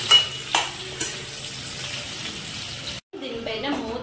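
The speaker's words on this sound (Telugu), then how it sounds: "మనం సాల్ట్ వేసాక ఈ పోపు ఇదంతా కలిసేలాగా మనం మంచిగా కలుపుకోవాలి." Raw mango pieces with salt and a tempering being stirred in a hot pan for a sweet mango dish: steady sizzling frying, a few scraping stir strokes early on, a brief cut to silence, then a voice speaking over the sizzle.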